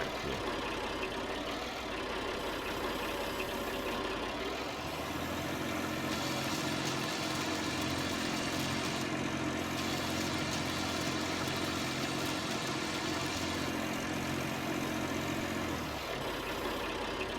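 Tractor engine idling in a farming simulator game, a steady low mechanical hum that holds throughout and deepens and thickens partway through, heard alone with no talk.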